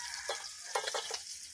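Shellfish and fish sizzling on a grill, a soft crackling hiss with a few small pops in one short burst.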